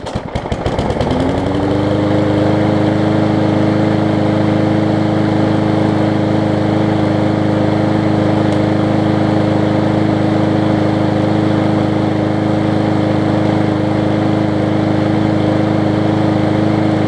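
A Yard Machines push mower with a Powermore engine starts after cleaning and then runs at a loud, steady idle, a close, even motor drone that holds unchanged throughout.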